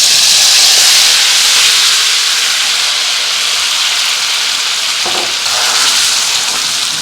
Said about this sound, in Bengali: এদিকে তেলটা গরম হয়ে গেছে। এবার মাংসটা আমি কড়াই ঢেলে দেবো।